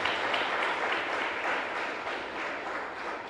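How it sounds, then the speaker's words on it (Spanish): A chapel congregation applauds during a live service, an even, sustained patter of many hands at moderate volume, slightly distant and fading gently toward the end. "Y un fuerte aplauso entonces para todos ustedes."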